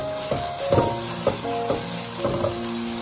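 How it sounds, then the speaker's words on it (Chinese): Eggplant and green pepper strips stir-fried over high heat in a wok, giving a steady sizzle broken by repeated scraping, clanking spatula strokes in an uneven rhythm, close and fairly loud. "继续开大火快速的翻炒均匀， 把青椒丝炒至断生"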